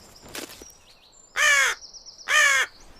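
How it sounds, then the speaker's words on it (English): A raven calls twice on a seashore, giving two loud, harsh croaking caws about a second apart, close by, with faint bird chirps and wind between them. "Wily and highly intelligent, this, the world's largest crow, would have been a familiar sight to the Vikings"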